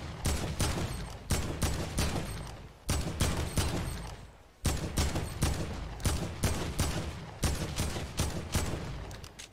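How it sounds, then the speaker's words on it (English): AK rifle sprayed in bursts in Fortnite on PC, loud rapid automatic fire in several long strings separated by short pauses, close and continuous. "You don't want to spray like this because your bullets are gonna go like everywhere."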